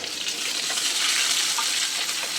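Onions and green chilies frying in hot oil for a dried-fish curry make a steady, close hiss and sizzle, continuous and even without pauses.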